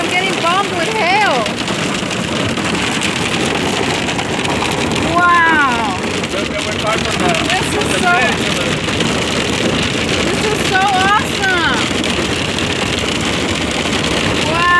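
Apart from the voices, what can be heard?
hail falling in a storm in Menifee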